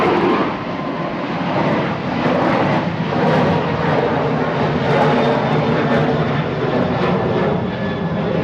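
Airliner at Manchester Airport, a steady loud engine roar that swells slightly and holds throughout, heard alone with no talking.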